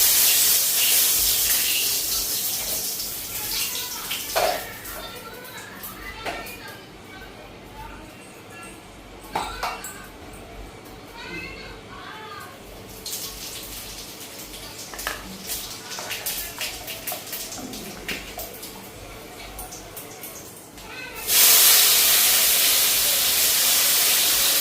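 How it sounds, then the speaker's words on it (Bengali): Cumin seeds and a bay leaf hit hot oil in a pan, raising a loud hissing sizzle that swells near the start and again strongly toward the end, with a person talking over the quieter middle stretch. "জিরা ফোড়ন দিই"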